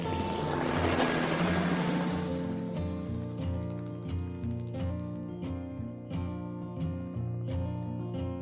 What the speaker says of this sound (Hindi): हेलीकॉप्टर हवा में बहुत अच्छे से उड़ने लगी।